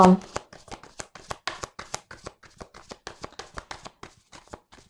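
Tarot cards are shuffled by hand in a fast, steady run of crisp riffling taps and flutters, close and fairly loud, with no voices.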